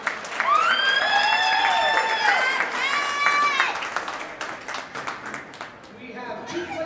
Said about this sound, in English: A big round of applause for both the EYHA Lady Dragons and the Pittsburgh Penguins Elite